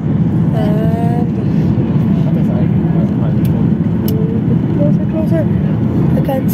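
Loud, steady airliner cabin roar during descent toward the airport on a flight from Malta to Treviso, a dense continuous rumble filling the whole span with faint tones drifting through it.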